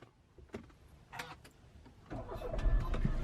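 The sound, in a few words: car engine starting with push-button start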